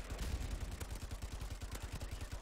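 Rapid, evenly spaced bursts from a light machine gun in a shooter video game, a steady rattling stream of fairly quiet shots with no voices over it.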